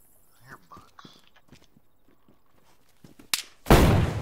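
Gunshots in the DayZ survival game, one sharp crack followed moments later by a louder, sustained blast, after a stretch of quiet footsteps and small clicks.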